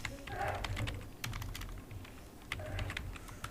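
Computer keyboard typing as a virtual machine name is entered in a Windows 10 Hyper-V setup wizard, bursts of quick close key clicks separated by brief pauses, with no speech.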